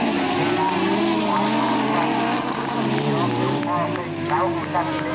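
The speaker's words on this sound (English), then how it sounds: "Gareth Ellis is all over that Paul Lockwood car, but just can't find the way through" Stock car racing engines roar loudly and continuously from close by, with a race commentator talking over the din throughout.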